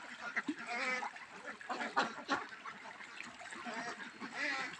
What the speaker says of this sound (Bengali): আমাদের আমার এখানে মোটামুটি হাঁসগুলো বর্তমানে যে হাউসে গোসল করতেছে